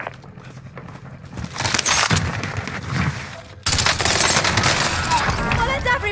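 Dense automatic gunfire rattles through a Call of Duty Warzone match, bursts of rapid shots layered with clinks and impacts, loud and continuous with a brief drop before resuming.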